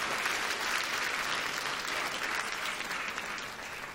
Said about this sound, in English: Can we get another round of applause for that generous gentleman and that generous gentleman?